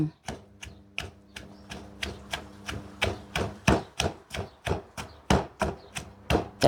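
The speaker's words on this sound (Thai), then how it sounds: "ขั่วพริก ขั่วพริก ขั่วกระเทียม ขั่วหัวหอมค่ะพี่น้อง แล้วก็มา ตำ" Roasted chili, garlic and shallot pounded in a mortar with a pestle, a steady series of sharp, close thuds at a brisk, even rhythm, each strike loud and distinct.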